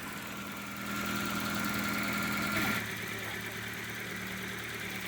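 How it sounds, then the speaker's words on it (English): Car engine idling after a Sea Foam engine treatment and an idle adjustment, a steady mid-pitched hum heard up close with slight vibration, briefly swelling a little louder before settling back to an even idle. "I have adjusted the idle, and now you can listen to it."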